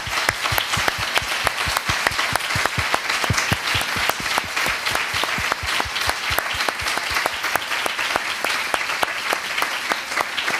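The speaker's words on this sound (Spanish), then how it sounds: "Vamos a darle un gran aplauso a ustedes y a nosotros." A conference audience in Bilbao breaks into sustained applause, dense steady clapping from many hands filling the room for the whole stretch, loud and even with no speech over it.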